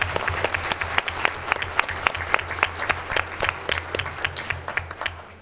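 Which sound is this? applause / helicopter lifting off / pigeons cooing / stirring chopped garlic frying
applause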